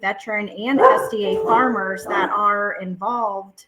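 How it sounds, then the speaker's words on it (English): A dog barks in the background behind a person speaking during an agricultural business presentation, a few short barks faintly mixed under continuous talk. "we apologize for the dog in the background"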